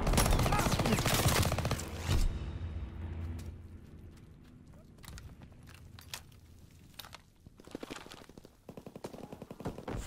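Artillery and gunfire in a WW2 video game, a dense loud barrage of rapid shots and booms that thins to scattered cracks and then surges back into fast bursts of fire.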